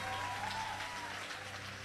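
Congregation at an Easter church service applauding, a steady, continuous wash of clapping that holds throughout, with a faint sustained tone early on.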